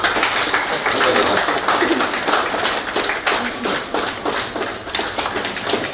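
Applause and scattered clapping from a gathered audience at the inauguration of the COCO Mithra office, a dense, steady patter of hands lasting throughout, fairly close, with some voices mixed in.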